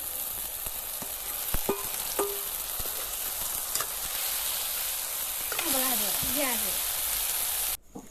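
Meat sizzles and crackles steadily in hot oil in a pan, with occasional stirring scrapes and a voice speaking briefly partway through.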